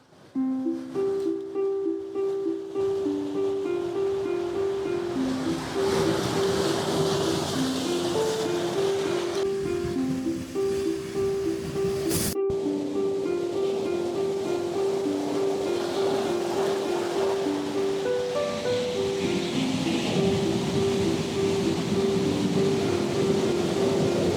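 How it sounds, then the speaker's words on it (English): Steady roar of ocean surf washing and breaking on Madeira's north coast, continuous and full, with a faint tonal hum running through it. "now we just wait for some waves again"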